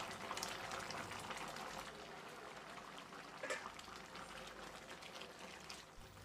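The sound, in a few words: curry boiling in pot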